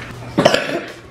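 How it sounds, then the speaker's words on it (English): A single short cough, close and fairly loud. "I coughed a little."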